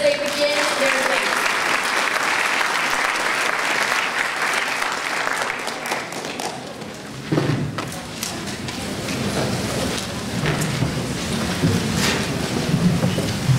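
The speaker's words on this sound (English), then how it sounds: "Let's give them another round of applause as they begin their debate." Sustained applause from an audience at a speech night debate fills the room, dense and continuous clapping that dips midway and then builds again, with some crowd noise mixed in.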